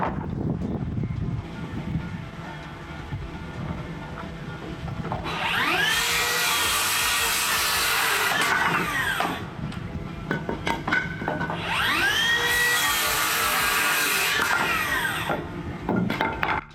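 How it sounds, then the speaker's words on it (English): A Makita beam saw cuts through wood in two long passes, each a loud, sustained whine with a rising and falling pitch, separated by a short lull filled with lower knocks and handling noise. "I grabbed the Makita beam saw because it was close."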